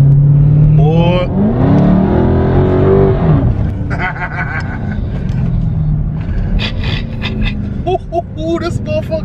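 A 2022 Dodge Charger SRT Hellcat Widebody accelerates hard, its engine rising in a loud revving roar heard from inside the car, with excited voices talking over it as the pull fades.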